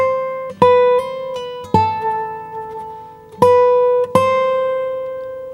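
Clean electric guitar picking the lead line of a song, a handful of plucked notes and ringing held tones with slides between them, close and clear with no voice.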